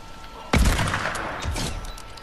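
A gunshot blast in Fortnite cracks out loud and close, followed by a rolling burst of further shots and booms that linger under the noisy game mix.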